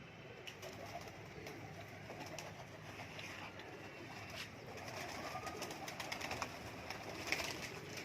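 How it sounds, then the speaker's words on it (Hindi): Many pigeons packed in a large cage at a pigeon farm in Pakistan flap their wings and coo, making a constant rustling, fluttering bed with scattered coos and wing bursts throughout. "माशाल्लाह ये फड़फड़ कर रहे हैं कबूतर,"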